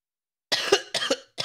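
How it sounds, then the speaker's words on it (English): Three quick, close coughs from one person in bursts over about a second, loud and alone against silence. "Stupid cough."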